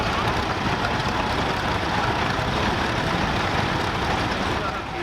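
A 1944 Fordson tractor towing a 1935 portable tractor winch rumbles steadily at an island steam fair, its low engine drone continuous and close, with crowd noise and voices from the showground mixed in throughout.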